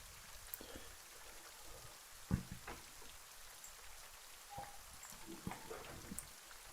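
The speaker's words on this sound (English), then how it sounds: "you guys get absolutely pissed on by the rain" Rain falling on a surface as a soft, steady patter for a tabletop game scene, with scattered droplet ticks and splashes over the quiet hiss.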